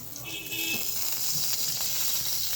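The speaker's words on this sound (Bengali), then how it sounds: "এখন সয়াবিন তেল দেবো ফ্রাই করে" Boiled pasta frying in soybean oil, a steady hissing sizzle with faint tonal whines early on and soft stirring bumps, moderately close with no talk.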